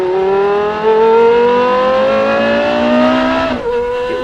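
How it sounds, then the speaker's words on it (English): A high-pitched V10 supercar engine revs up steadily in one long rising wail, then drops abruptly and settles, loud and close. "a V10 engine that sounds absolutely incredible, possibly one of the best sounding engines of all times"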